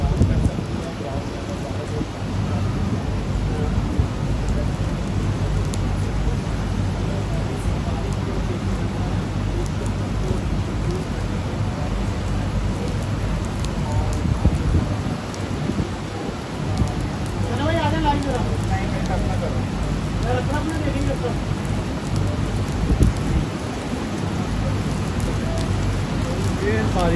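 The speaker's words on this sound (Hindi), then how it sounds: "बारिश हो चुकी शुरू हो गई है, ये देख सकते हैं।" Heavy rain falls steadily outside Pallekele cricket stadium during an India vs Nepal match, a loud continuous wash of rainfall with no letup.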